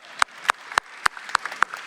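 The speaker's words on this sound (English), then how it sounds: "that was not a nice round of applause" Scattered, sparse clapping at a conference panel: about eight separate claps at an even pace, sharp and distinct, with little crowd sound around them.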